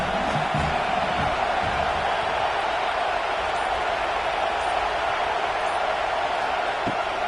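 Stadium crowd at a college football game, a broad steady roar of cheering and noise that stays loud and continuous throughout, with no single voice standing out.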